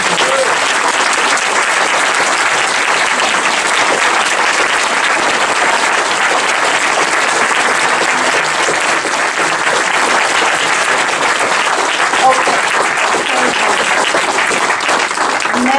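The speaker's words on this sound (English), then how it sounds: "I would like a really, really loud round of applause for your 2 candidates." Loud, sustained audience applause for two candidates at a League of Women Voters mayoral forum, a dense continuous wash of clapping from a large crowd lasting throughout with no break.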